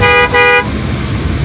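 A car horn honks twice in quick succession near a Dhaka flyover by the airport, followed by steady road traffic noise in the rain.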